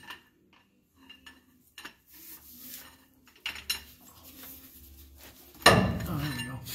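A metal cheater bar clanks and clinks onto the drain plug of an Allison 4070 transmission on an Oshkosh MTVR MK23 7-ton truck, with scattered light taps and scrapes before one loud, close metallic clatter near the end.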